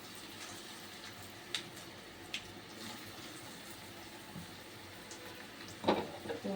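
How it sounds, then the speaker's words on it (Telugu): Idli batter fritters (punugulu) frying in hot oil, a faint, steady sizzle with a few brief clinks and a louder stir or splash near the end, no voices. "గోల్డ్ కలర్ వచ్చేంత వరకు వేయించుకుందాం"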